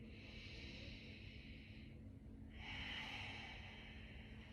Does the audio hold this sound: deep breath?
yes